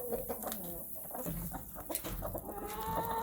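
Chickens, including a Barred Rock rooster, cluck and murmur close by in a busy, overlapping stream, with short sharp calls breaking through a steady farmyard background.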